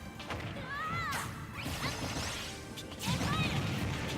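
Ness's PK Fire attack in Super Smash Bros. is a quick sequence of whooshes and crashing hits, with rising and falling chirpy tones between the impacts and a heavier smash near the end.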